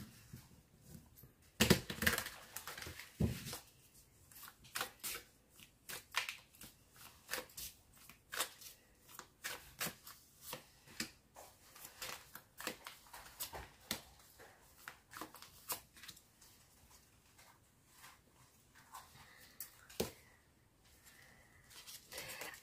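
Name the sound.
shuffling tarot cards for a reading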